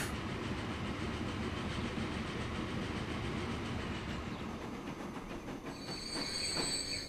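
Big trains rolling along rails in the game Transport Fever, a continuous loud rumble with clickety-clack wheel noise and a brief squeal of wheels toward the end.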